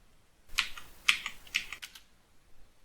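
Computer keyboard keys clicking in a few quick, sharp bursts while someone plays a game, close and fairly quiet against a silent background.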